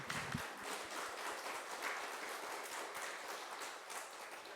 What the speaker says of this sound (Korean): 우리 아름다운 손길들에게 우리 격려의 박수, 축복 박수 한번 쳐줍시다